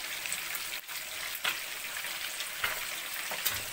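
Fish frying in oil for a Lahori-style fish fry, a steady crackling sizzle at moderate level with occasional small pops and spatters.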